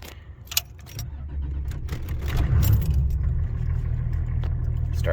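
A 1985 Cadillac Sedan DeVille with a 4.3-liter diesel, started from a momentary switch without the glow plug controller, clicks and jingles briefly, then cranks and catches into a steady low, loud idle rumble that continues close by.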